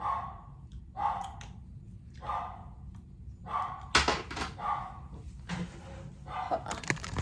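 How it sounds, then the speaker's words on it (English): A dog barks at someone arriving at the door, repeated sharp bursts at a moderate distance in a quiet indoor room, with occasional knocks or thumps in between and no talking. "My dog's barking, so I know there's someone there."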